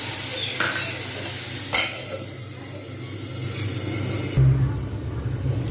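Onions frying in a pan as spices are slowly added over lowered heat, a soft steady sizzle with a couple of louder clatters of utensil against pan.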